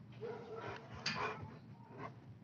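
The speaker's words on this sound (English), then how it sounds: "my grand dog Kevin in my backyard" A dog barks in a backyard, a few muffled, somewhat distant woofs rising briefly over a low, steady background hum.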